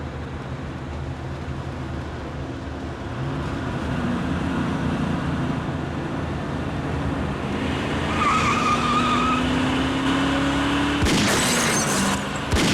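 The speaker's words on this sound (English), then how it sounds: "a car began to follow him." A car engine roars while tires skid and squeal at night as one car pursues another, the whine rising steadily before a sharp crash-like burst near the end.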